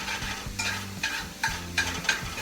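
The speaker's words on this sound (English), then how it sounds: "smell that sausage cooking up" Sausage frying in a greased cast iron pan, a continuous close sizzle with stirring scrapes and a low hum underneath, no voices.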